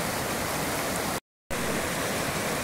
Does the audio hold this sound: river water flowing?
yes